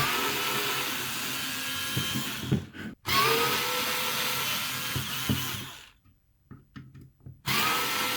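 A power driver whirs steadily as it backs security Torx screws out of a battery pack, running in long continuous bursts with brief pauses and a longer stop before it starts again.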